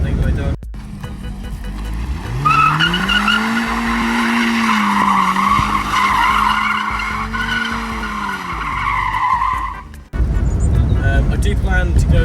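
A 2006 Mazda MX-5 NC spins a donut, tyres squealing in a loud wavering screech over the engine for about eight seconds before cutting off abruptly, with a voice heard around it.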